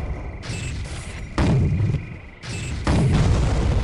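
Explosives going off in the Soldier of Fortune shooter game: two heavy, loud booms land about a second apart with a long rumbling tail, then a second pair follows the same pattern, over steady game background noise.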